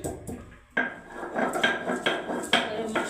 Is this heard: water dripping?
no